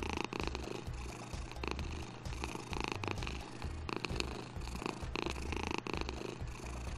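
A cat's purr in the horror game What's Under Your Blanket runs steadily for the whole stretch, a loud low rumble with a regular pulsing rhythm, with no voices over it.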